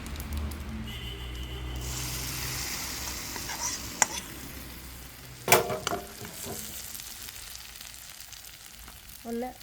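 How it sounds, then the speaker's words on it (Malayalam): Hot mustard-seed tempering in oil is poured into a curry, giving a steady broad sizzle with sharp crackles and a louder burst partway through, then fading as the pot is stirred. "കറിക്കകത്തോട്ട് ഈ താളിച്ചത് ഒഴിക്കാൻ പോവാം."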